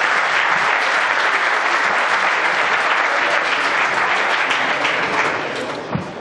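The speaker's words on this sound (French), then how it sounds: "Merci d'applaudir." An audience gathered for the Grand Raid des Pyrénées 2012 race briefing breaks into loud, close, continuous applause that holds steady before tapering off near the end.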